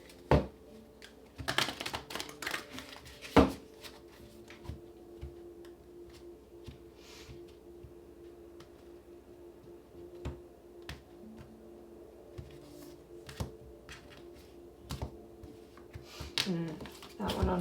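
Tarot cards are shuffled in a quiet room, giving soft, irregular riffling taps and flicks that come in bursts early and near the end, with faint background noise between them.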